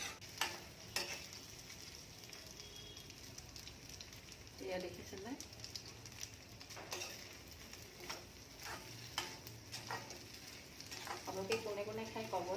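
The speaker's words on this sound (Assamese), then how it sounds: "ভাতখিনি দি এতিয়া অলপ দেৰি আৰু ভাজি থাকিম।" Rice frying with fish belly and cumin in a pan gives a steady low sizzle, with scraping stir strokes and sharp clicks throughout. A voice speaks briefly partway through.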